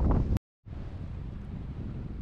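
Strong wind roaring across the microphone on a Stockholm archipelago shoreline during a mink hunt with dogs, cutting out for a moment before the steady rushing buffet returns.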